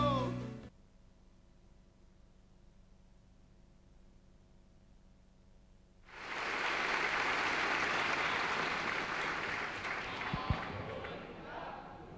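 Applause for a lower-secondary school marching band at a national marching contest bursts in after a long quiet hush, a broad wash of many hands and crowd noise that holds steady to the end.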